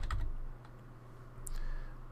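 A few quick keystrokes on a computer keyboard, soft and close, a short cluster of clicks, a pause, then another brief burst in a quiet room.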